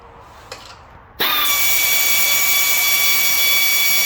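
A power tool unbolting the engine from the fuel tank of a McLane edger: a couple of faint clicks, then an abrupt, loud, high-pitched whine that spins up and holds steady close to the microphone.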